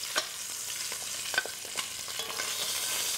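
Meat searing in a hot pan hisses with a steady sizzle, broken by several sharp clicks and scrapes of turning or stirring, close up and without any voice.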